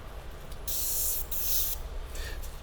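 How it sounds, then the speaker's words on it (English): Spray can spraying black paint over silver on a 3D-printed blade: two close, steady hissing bursts of about a second each, with a shorter, fainter puff after them. "I'm going to spray from this angle and just tone the silver down just a little bit"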